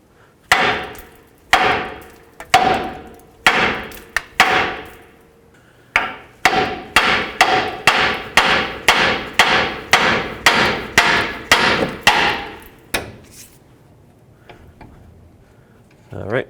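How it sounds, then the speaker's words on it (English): Hammer blows on the steering knuckle of a 2001-07 Toyota Sequoia to break the tie rod free: a few spaced ringing metallic strikes, then a rapid run of about a dozen close, loud hits before silence. "go ahead and hammer right here on the knuckle"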